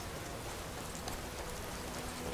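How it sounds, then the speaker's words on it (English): Steady rain in the modded video game Skyrim falls as a dense, continuous hiss during a climb on foot up a long mountain stairway, evenly loud throughout with no speech. "I hate the fact that it's fucking raining."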